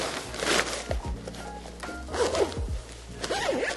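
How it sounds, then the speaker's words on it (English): A zipper is pulled closed on the inflation bag of an Advance Range X-Alps 3 paraglider harness, giving short rasping zips with fabric rubbing and handling, close up and moderately loud. "close the zipper"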